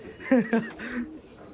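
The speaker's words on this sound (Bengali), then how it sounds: "দেখুন এই সাইডে পায়রাই পায়রা" A pigeon gives a soft, throaty coo twice in quick succession, close by and fairly quiet.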